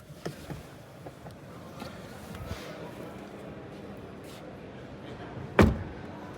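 A Renault Arkana Esprit Alpine 2024 door shuts from the outside with a single solid thud near the end, following a quieter stretch of faint handling noises.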